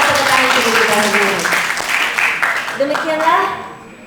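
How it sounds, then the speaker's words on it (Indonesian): A seminar audience in Pekanbaru claps together after a speaker, the dense applause sounding close and fairly loud. Voices are heard talking over the clapping. "Mari kita tepuk tangan terlebih dahulu"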